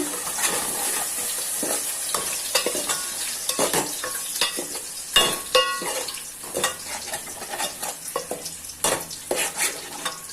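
A spoon stirs crushed raw tomato into a sizzling fish curry base in a pan, steady scraping and clinking strokes over a constant frying hiss, close and fairly loud with no voices.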